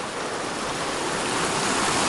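Mountain stream rushing over rocks at a trail crossing on the climb toward Mather Pass on the John Muir Trail, its water swollen by recent rain, heard as a steady, close, full-bodied roar with no pauses.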